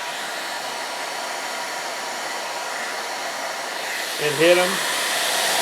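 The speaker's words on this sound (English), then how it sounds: "So I found that if I take a hair dryer" A hair dryer blows steadily on a salad plate to dry crumbs, a constant close whooshing hum throughout, with a brief spoken phrase over it near the end.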